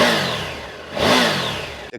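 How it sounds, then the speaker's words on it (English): A Triumph Tiger 900 Rally Pro motorcycle with stock exhaust, started cold, revved twice with rising then falling engine pitch, loud and close with no talk. "The combination of the engine just like sounding like a race car, and then the rumble of the stock exhaust is a beautiful combination."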